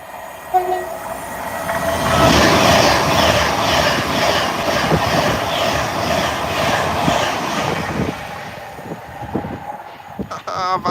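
A train rumbles past Acton Bridge loudly with a steady roar of wheels on rails, its horn sounding in sustained tones, then fading toward the end.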